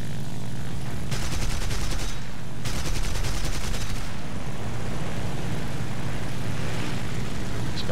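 Bursts of rapid gunfire from the War Thunder combat game, with two long volleys early on over a steady engine drone and rumbling battle noise, loud and continuous with no talk.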